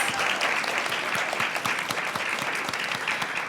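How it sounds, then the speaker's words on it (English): A conference audience applauds panelists at a women's leadership event, a dense, steady burst of many hands clapping for several seconds without pause. "Can we get a round of applause for our amazing panelists?"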